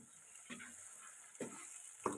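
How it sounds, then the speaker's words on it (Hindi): A spoon gently stirs biryani masala in a pan, three soft separate scrapes spaced about a second apart over a faint steady hiss, quiet and close. "अब हम इसे जो है वो हल्के हाथ के साथ इसका ये चम्मच से हम हिला देंगे"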